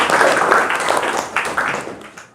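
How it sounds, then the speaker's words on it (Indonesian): Classroom of students clapping for a classmate, a short burst of close, uneven applause that fades out after a couple of seconds. "Tepuk tangan buat teman kamu."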